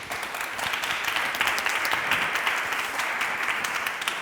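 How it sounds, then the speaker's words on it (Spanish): An audience at a public administration round-table panel breaks into sustained, dense applause for a panel member, a steady wash of clapping heard from a moderate distance with no talk over it. "Si le damos un fuerte aplauso y me lo explica."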